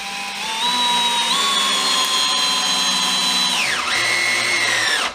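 Power drill driving screws into wood, a loud steady whine that rises in pitch, dips briefly near the end, then resumes before stopping, close and alone without talk.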